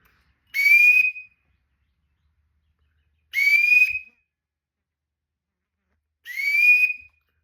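Three separate rising squeals from a duck whistle giving the single sitting wood duck call, spaced about three seconds apart with silence between, loud and close.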